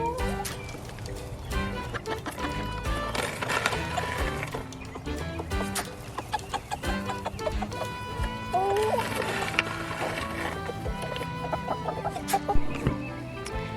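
Chickens and a young rooster cluck on a farm near the chicken coop, steady busy fowl calls mixed with other barnyard noise and a person talking throughout.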